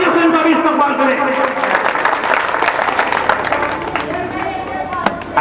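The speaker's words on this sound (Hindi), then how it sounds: "जोरदार ताली से इनका भी इस्तेमाल करें।" A crowd at a party workers' convention in Faridabad bursts into loud, dense applause, with rapid clapping that carries on steadily for several seconds and scattered sharp claps standing out.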